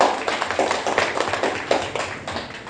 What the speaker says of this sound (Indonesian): terima kasih untuk kelompok 1, beri aplaus